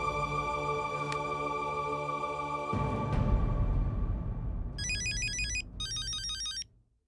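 A melodic electronic ringtone plays continuously, with bright chirping bursts near the end before it cuts off.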